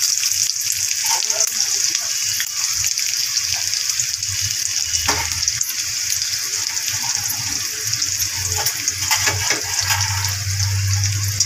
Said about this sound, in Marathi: आता त्यामध्ये मी कांदा टाकत आहे।